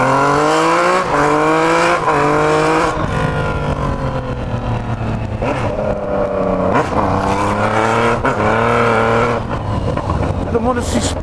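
Yellow Yamaha MT-09 motorcycle with a full aftermarket exhaust revving loudly and continuously up and down, close by, with people talking over it.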